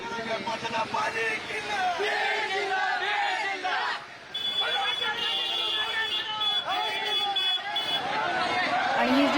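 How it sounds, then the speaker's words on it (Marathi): A large crowd of Maratha and OBC protesters in Jalna shouts slogans in loud, overlapping chants, with voices rising and falling over a tense street scene and a brief lull partway through. "जोरदार घोषणाबाजी आंदोलनकर्त्यांकडून सुरू असल्याचं पाहायला मिळत आहे"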